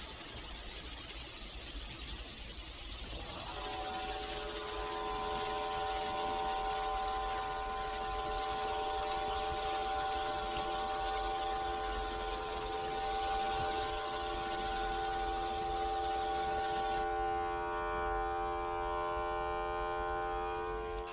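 An electric foam sprayer pumps and sprays, giving a steady motor buzz with rising whining tones that keep going for a long stretch, close and loud. The high spray hiss cuts off near the end while the pump keeps running, and no one talks.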